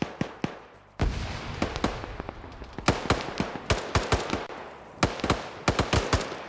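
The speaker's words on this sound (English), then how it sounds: "Grenades being thrown around over here." Dense firefight in a multiplayer shooter match, rapid bursts and single shots cracking in quick succession with sharp booming blasts, loud and continuous after a brief quieter opening.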